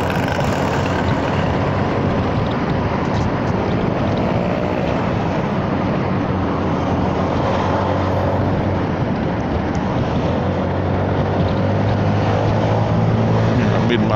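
Honda Forza 300 scooter engine revving high at around 7,000 rpm while riding, a loud steady drone with heavy wind rush close to the microphone throughout.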